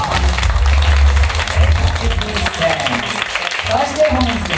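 An audience at a live music show applauds in a dense, loud wash of clapping and crowd noise, with a low rumble and some faint voices mixed in.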